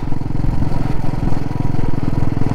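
A motorcycle on a Leh Ladakh ride between Jispa and Sarchu labours uphill without proper pickup. Its engine gives a loud, close, steady pulsing thrum under heavy load.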